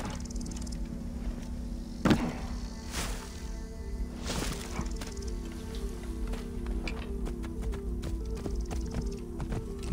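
Horse hooves in the video game Assassin's Creed Origins, a steady clip-clop carrying on throughout over a continuous droning game backdrop, with one sharper thump early on.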